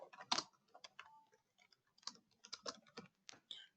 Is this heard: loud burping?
no